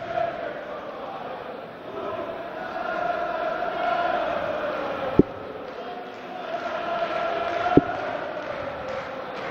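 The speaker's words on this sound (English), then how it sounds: "I wonder if the German crowd actually know what they're singing" A large German darts crowd in Hildesheim sings together in a steady, echoing chant throughout a championship match, with a couple of sharp thuds standing out above the singing.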